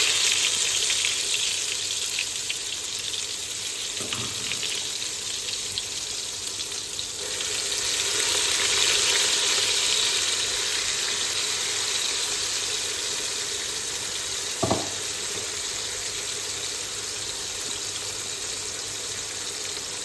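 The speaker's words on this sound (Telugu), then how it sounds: "బాగా ఫ్రై చేసుకోవాలన్నమాట, పచ్చి వాసన పోయేదాకా" Green chicken biryani paste fries with onions in hot oil, a steady loud sizzle with a swell in the middle and a couple of brief utensil knocks against the pan.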